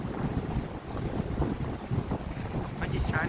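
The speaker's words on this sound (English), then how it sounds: "Look at the waves on this ocean." Rough, active Atlantic Ocean waves at Herring Cove, a steady loud wash of surf and spray mixed with gusting wind buffeting the microphone throughout, with no talk.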